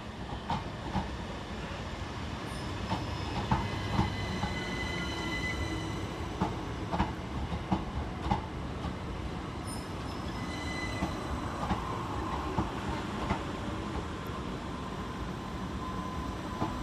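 A Class 377 electric passenger train rolls into Eastbourne station with a continuous rumble, rhythmic wheel clicks and occasional high squeals, steady and fairly close throughout.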